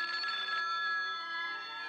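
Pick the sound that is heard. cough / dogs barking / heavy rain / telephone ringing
telephone ringing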